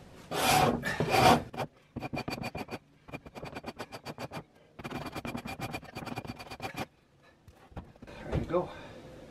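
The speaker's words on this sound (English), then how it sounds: "Angle of your scraper makes a little bit of a difference, and definitely the sharpness of it." A sharp scraper is drawn repeatedly across a beaver hide during frost scraping, making close, raspy strokes in bursts with short pauses between them.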